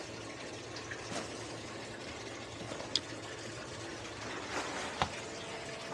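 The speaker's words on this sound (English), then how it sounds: "Sump pump works." Sump pump running aboard a hurricane-damaged salvage boat, a faint steady gushing, trickling water flow with a low motor hum, with a few brief clanks.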